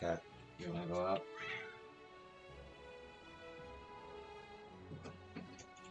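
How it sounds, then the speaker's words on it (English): A cat in the video game Final Fantasy XIV meows in a few close, clear calls at the start and again near the end, with quieter ambient tones in between. "Here, cat, you wanna go out?"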